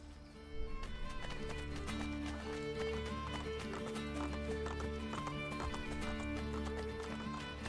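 Hooves clip-clop in a steady gallop with a horse neighing now and then, in the Assassin's Creed Brotherhood video game, set over a continuous game music score.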